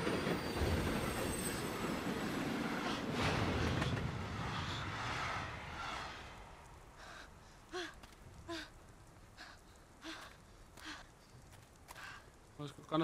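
Train rolling along the rails in the video game Beyond: Two Souls, a steady rumbling ride with scattered wheel clicks and squeals; the continuous roar fades after a few seconds, leaving quieter rhythmic clacks.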